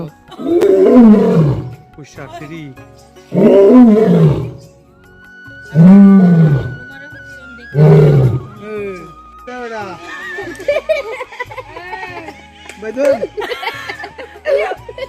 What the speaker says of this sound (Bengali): জীবনে প্রথমবার মানে সিংহের গর্জন শুনে খুব ভয় লাগছিল